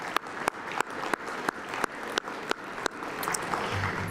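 An audience at a university appreciation banquet applauds, a broad wash of clapping with single sharp claps standing out at a regular, almost rhythmic pace.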